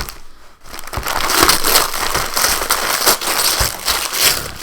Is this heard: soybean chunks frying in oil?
no